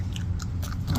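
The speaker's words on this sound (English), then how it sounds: "Chew it up good." Someone chews a piece of gum close to the ear, with soft, wet mouth sounds and small crunches over a low background hum, brief and steady.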